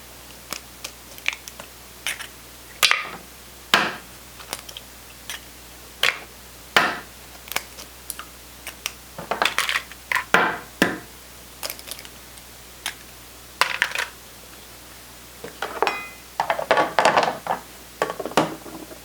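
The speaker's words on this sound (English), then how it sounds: "So first I'm going to crack these 15 eggs into my mixing bowl." Fifteen eggs are cracked one after another into a mixing bowl for breakfast burritos. Sharp, close taps and cracks repeat irregularly, sometimes in quick clusters, over a quiet background.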